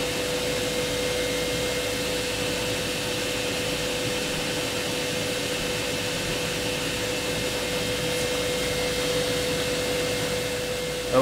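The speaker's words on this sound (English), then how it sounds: "Right now I'm running the dehumidifier" A dehumidifier running off a VTOMAN Jump 1800 LiFePO4 portable power station gives a steady fan-and-compressor drone with a constant tonal hum, unchanging for the whole stretch and with no voices.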